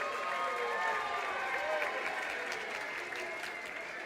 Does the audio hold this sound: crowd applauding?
yes